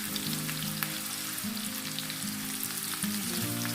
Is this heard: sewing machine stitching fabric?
no